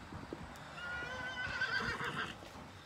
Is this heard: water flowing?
no